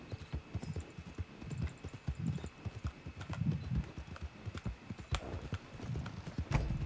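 Horse hooves clip-clop steadily in Red Dead Online, a continuous rhythmic trot of close, clear hoofbeats over faint background ambience, with a brief whinny-like note near the end.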